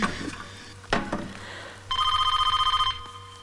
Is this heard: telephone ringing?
yes